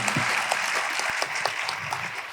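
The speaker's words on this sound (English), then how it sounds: "A big round of applause for Millo Sunka" An audience at the Shristi 2025 event applauds for actress Millo Sunka: dense, steady clapping that fills the whole stretch at even loudness, with no voices heard over it.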